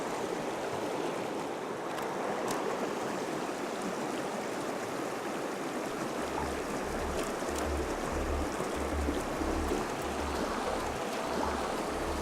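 A flowing stream of water gives a continuous, close broadband rush and babble that stays steady for the whole stretch, with a low pulsing rumble joining in the second half and no voices.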